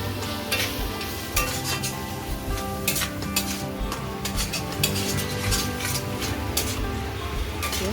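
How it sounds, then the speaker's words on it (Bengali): Spatula stirring spice paste with ground coriander and cumin in a kadai, scraping and clinking against the metal in quick repeated strokes over a steady sizzle of frying, close and loud. "কড়াইয়ে এই মশলাটাকে ভালো করে খুন্তিয়ে করে নাড়াচাড়া"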